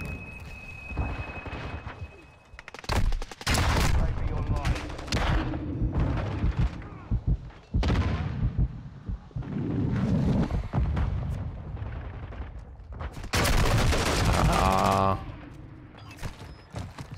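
Gunfire bursts in the video game Warzone 2, sharp broadband cracks and rattles recurring through the clip, loud and close, mixed with game noise and voice chat talking over it.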